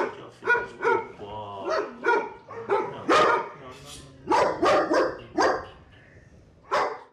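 A hostile, dangerous dog barks in repeated sharp bursts with some whimpering yips in between, fairly close and loud, while voices talk over and around the barking.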